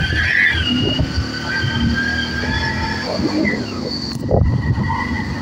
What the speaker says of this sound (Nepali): मेरो साथीले बाइक चलाउँदैछ